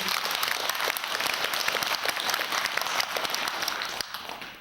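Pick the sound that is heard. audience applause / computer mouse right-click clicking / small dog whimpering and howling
audience applause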